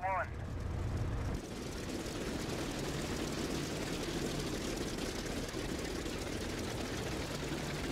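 Steady, loud aircraft engine idling and rumbling aboard a carrier deck in the IL-2 Sturmovik flight game, a brief whine at the very start before a continuous broadband drone holds through to the end.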